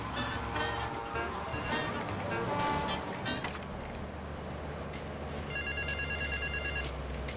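A telephone rings inside the GTA Vice City video game, its bell tones repeating over busy game noise and background sound while someone talks.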